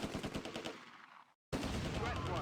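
Light tanks in Close Combat fire in rapid bursts, giving loud, dense, repeated cracks. The sound cuts out briefly, then the gunfire resumes just as intense.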